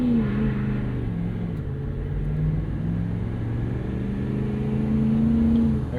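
A 2016 Ford F-350 Lariat Super Duty with the 6.7 Powerstroke diesel pulls away from a roll, its deep engine drone rising and falling in pitch as it accelerates, loud and steady heard from inside the cab.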